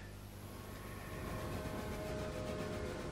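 A train rolls steadily along the track in the Railway Empire game, with a continuous broadband rumble that grows slightly louder partway through, with no talking.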